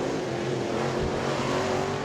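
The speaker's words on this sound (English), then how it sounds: "The 11 car coming to a stop here at the intersection. letting the field go by." Pack of race cars at a short-track weekly racing event rolling past an intersection, engines droning steadily and continuously at close range, no voices.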